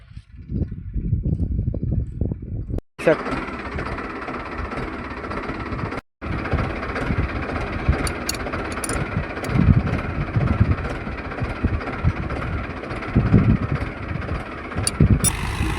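A faulty tractor engine runs steadily with a deep, rumbling drone and vibration throughout, briefly cutting out twice early on, loud and close.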